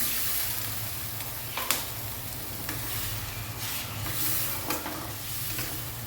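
Fish curry being stirred slowly in a pan after spice-rinse water is added, a steady low simmering sizzle with soft scraping strokes and faint clinks, close and continuous, no talk.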